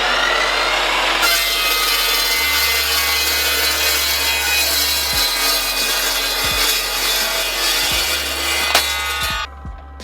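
An Evolution EVOSAW380 15-inch cold-cut saw bites through steel with a loud, sustained high-pitched metallic whine over the motor's hum for about eight seconds before the cut finishes and the blade winds down.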